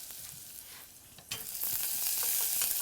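Onion, cumin and cinnamon sautéing in a pan for millet pongal: a close sizzle that swells louder partway through as the pan is stirred, with no talking.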